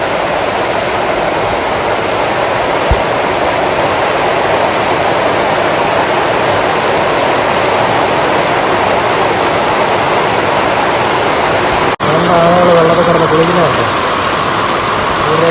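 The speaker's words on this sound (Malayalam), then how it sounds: "എന്തോ മഴയാണല്ലോ" Heavy rain pours down in a dense, constant roar; near the end a voice speaks briefly over the downpour.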